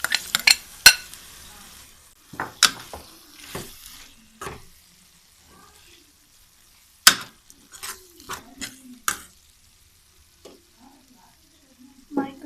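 Macaroni and vegetables are stirred in a frying pan, with scattered scrapes and clinks of a utensil against the pan between quieter stretches of faint sizzling.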